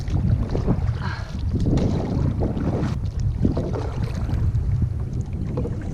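Strong wind buffeting the microphone while fishing from a Pelican kayak on open water, loud continuous rumbling gusts with faint water movement, no talking.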